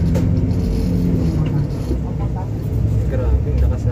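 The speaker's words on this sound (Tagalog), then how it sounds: "Grabe, ang lakas ng makina." Loud engine of a modern jeep on a ride near Gubat, Sorsogon, a steady low rumble heard from inside the vehicle, constant throughout with people talking over it.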